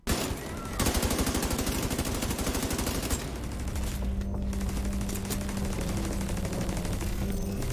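Automated turret deployed in The Division 2 firing sustained rapid bursts, a dense rattling stream of shots that runs almost continuously and fairly loud with only brief gaps.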